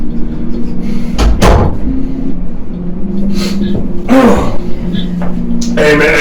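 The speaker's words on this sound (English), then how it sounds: "Close the fucking door!" A door is pushed shut with a couple of knocks and a thud amid shuffling and handling noises, close and fairly loud.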